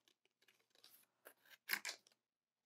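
Scissors cut paper in a few quiet, separate snips and crisp slices that grow slightly louder toward the end, heard close up with silence between cuts.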